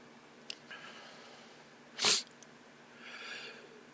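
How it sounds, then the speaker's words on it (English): A single sharp human sneeze bursts out midway through a quiet indoor room, close to the microphone, with faint sniffs and breathing around it. "Fucking sneeze."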